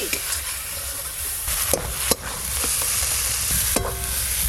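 Spice masala being stir-fried in a pan, a constant loud sizzle with sharp spatula scrapes and clanks against the metal at irregular moments, close up, no one talking.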